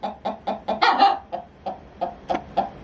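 A hen clucks agitatedly inside a chicken coop while trying to lay an egg, a run of about a dozen close, loud, rhythmic clucks with a brief squawky burst in the middle.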